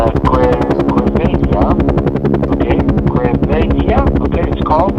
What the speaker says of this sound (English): So I'm still in a helicopter